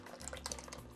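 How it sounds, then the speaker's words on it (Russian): Beef broth poured into a pan while cooking at home, a short trickling, splashing stream of liquid heard up close for about a second with no talk. "Добавим немного говяжьего бульона. Давайте, наливайте."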